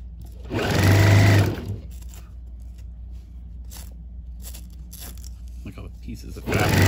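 Sewing machine stitching Velcro onto an ottoman fabric cover, one loud, close, buzzing run of about a second, then low background hum and small handling noises before the motor starts again at the end.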